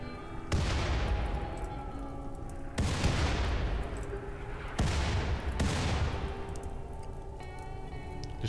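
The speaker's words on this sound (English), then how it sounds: "Just firing indiscriminately in that area." Mechanoid scythers and centipedes fire inferno cannons in RimWorld. Four heavy booming blasts arrive a couple of seconds apart, each trailing off into a long fading roar, with no talk.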